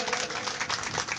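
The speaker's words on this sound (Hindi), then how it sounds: "जोरदार महाराज श्री के लिए तालियां बजाएं।" Applause from a gathered audience at a devotional religious discourse in Sector 24, Panipat, a steady wash of many hands clapping at moderate volume, with faint voices mixed in.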